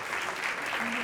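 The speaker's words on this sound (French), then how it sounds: "On l'applaudit bien fort, s'il vous plaît." Spectators at a kickboxing weigh-in break into applause, a short, dense burst of continuous clapping heard at close range with a faint voice beneath.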